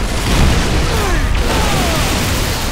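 Grenade launcher blasts in Halo custom-game Gun Game, a loud continuous roar of explosions and booming rumble with whooshing debris filling the whole stretch, no voices.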